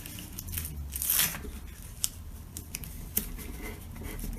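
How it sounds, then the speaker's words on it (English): Sticky tape tears off the roll and is pressed onto the back of an Easter cross church craft, giving a rough rip followed by scattered soft taps and rubbing, close and moderately quiet. "just tape it down at the back, nice and secure"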